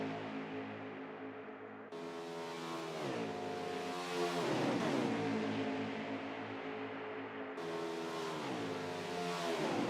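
Racing trucks roar around the Talladega superspeedway during a Truck Series race, engines revving and pitch sweeping as they pass in successive waves, loud and near, with no voices.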